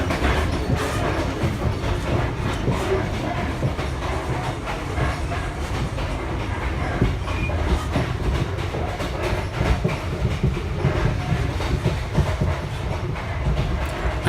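Constant dense rumble and rattling inside a moving passenger carriage of one of the newest Vietnam Rail trains, with steady clickety-clack of wheels on track throughout and no voices.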